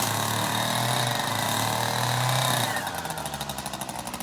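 A 2020 Echo 3020t string trimmer runs loud and close, a steady engine drone that shifts partway through into a pulsing, choppier tone as it cuts through weeds, with no talking over it.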